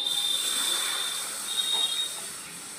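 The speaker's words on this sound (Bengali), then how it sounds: "কড়াইতে দিয়ে দেবো অল্প জল" A little water poured into a hot kadai over a lit clay stove hisses sharply, a bright steady sizzle that swells briefly and then settles, heard close with no talking.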